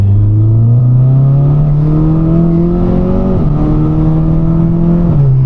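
An Audi S3 accelerates hard on a wet road, its engine note climbing steadily in pitch with two brief dips as it shifts gears, loud and continuous from inside the car with no talk.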